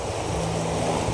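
Rainwater rushes steadily past a bridge during heavy rain in Sindh, a broad, noisy wash, loud and continuous, with a faint low hum underneath.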